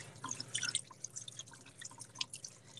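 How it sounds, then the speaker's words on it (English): Hands being rinsed under running water, with irregular splashes and drips close by at fairly low volume and no talking. "I'm going to try to rinse this off."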